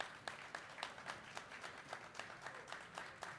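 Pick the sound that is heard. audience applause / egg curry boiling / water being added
audience applause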